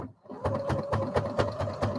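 A Brother HC3010 sewing machine stitches through about ten layers of heavy fabric, giving a steady rhythmic thumping chatter of needle strokes over a motor hum, close and clear with no talk.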